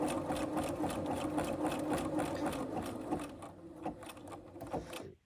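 A domestic sewing machine stitches a zigzag seam on fabric, a fast close mechanical chatter that runs steadily, then slows and stutters to a stop as it pivots.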